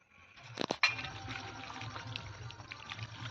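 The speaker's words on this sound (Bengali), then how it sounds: "আস্তে আস্তে জল দাও" Water is poured into a cooking pot for a dish of chicken feet and tripe, a short gurgle after a couple of brief clinks, followed by a soft steady trickle and low background murmur.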